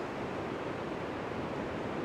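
Outdoor wind at Bamburgh blows as a steady, broad, even rush without breaks, moderately loud and with no voices.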